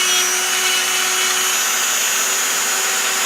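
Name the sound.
Dremel rotary tool running on model boat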